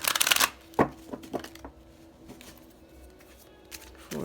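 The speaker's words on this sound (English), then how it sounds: "I want to pull a 3-card spread with the Osho Zen Tarot" Osho Zen tarot cards being shuffled: a loud burst of riffling at the start, a sharp slap, then a few lighter taps and soft shuffles, ending with another brief riffle.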